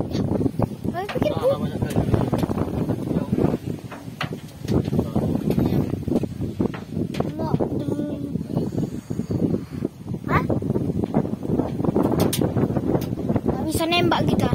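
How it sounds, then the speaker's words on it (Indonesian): Strong wind on an outdoor hunting trip roars and buffets the microphone in a continuous low rumble, with someone talking over it throughout. "Anginnya kencang guys."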